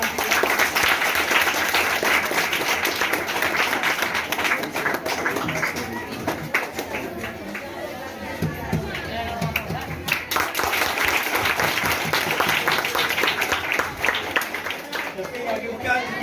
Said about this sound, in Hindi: प्रीति के लिए एक जोरदार ताली